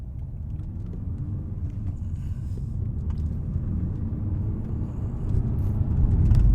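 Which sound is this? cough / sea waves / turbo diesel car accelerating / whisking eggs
turbo diesel car accelerating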